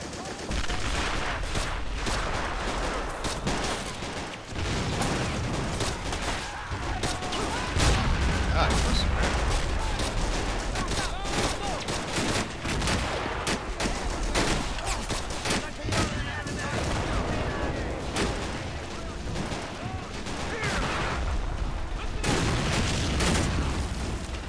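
Dense game combat from Men of War: Assault Squad 2 in a 4v4 match, with rapid rifle and machine-gun bursts, booming mortar explosions and near-constant rattling fire, loud and unbroken across the span.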